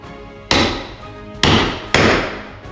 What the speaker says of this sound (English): I'm going to try and crack or chip this with a chisel